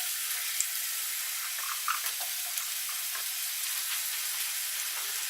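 Onion dropped into hot olive oil in a pot, a steady close hissing sizzle with small crackles and pops throughout, no voices.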